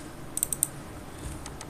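Quick keystrokes on a computer keyboard: a short burst of four close clicks, then two softer taps a moment later, with faint room hush underneath.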